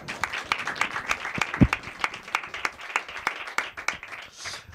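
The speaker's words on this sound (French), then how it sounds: "On applaudit Soun Dembélé." Steady, rhythmic clapping from a small crowd, the claps landing in an even beat for several seconds.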